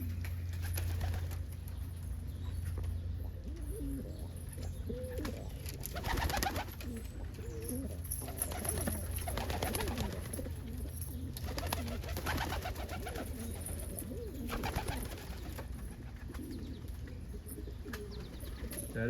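Homing pigeons, including a crested indigo homer, coo softly and repeatedly in a loft, low rolling calls set against a constant hum and faint rustling, with no talking.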